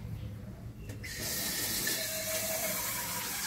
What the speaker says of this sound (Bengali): এবার জলটা দেবো